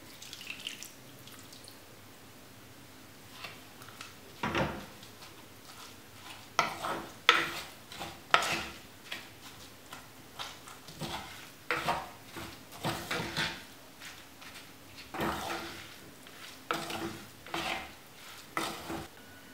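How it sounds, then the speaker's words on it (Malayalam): A spoon stirs ginger and chilli paste with a little water in a metal pot, giving irregular scrapes, clinks and wet sloshes, close and fairly quiet, with no one speaking. "കാൽ കപ്പ് വെള്ളം ചേർത്ത് നമുക്കിത് നന്നായിട്ടൊന്ന് മിക്സ് ചെയ്യാം."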